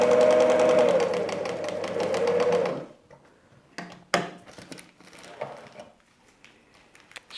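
Sewing machine stitching a patchwork seam in a paper-pieced quilt block, a steady rapid whir for a few seconds, then stops, followed by scattered small clicks and handling noises.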